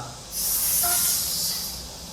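Spray can hiss from the video game GTA San Andreas, a steady broadband spray that starts sharply and holds loud for about a second and a half before easing off, with no talk over it.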